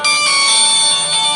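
A mobile phone rings loudly with a steady electronic ringtone, a call placed automatically by a farm water pump controller. The tone runs continuously and close, with no other sound.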